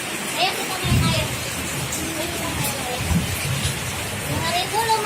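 Rain falling outdoors as a steady wash of hiss throughout, with a voice and an adult talking over it.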